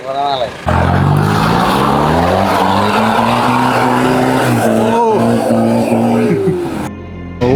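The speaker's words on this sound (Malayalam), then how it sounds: "നമ്മൾ കുട്ടിക്കാന ടൗണിലൂടെ ഇങ്ങനെ വണ്ടി ഓടിച്ച് പോയിക്കൊണ്ടിരിക്കുകയാണ്" A modified off-road vehicle drives through Kuttikkanam town, its engine a loud, steady, droning growl that rises gradually in pitch, then drops off and fades near the end.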